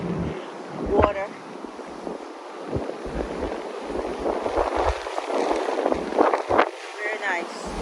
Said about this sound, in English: See the waves and the water.